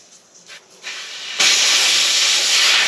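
Air rushing out of a TW200 motorcycle tire inner tube once the valve stem core is pulled, starting with faint brief puffs, then bursting into a loud, steady hiss that continues to the end.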